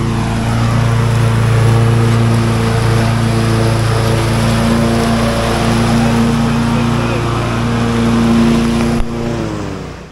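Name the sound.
Husqvarna Excite lawn mower mowing rough grass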